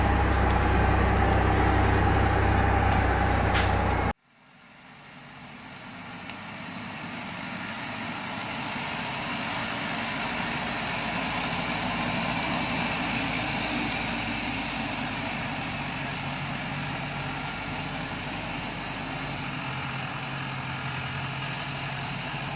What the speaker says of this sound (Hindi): बबूल की लकड़ियां लदा एक ओवरलोड ट्रक जंगल की सड़क के मोड़ पर आ गया।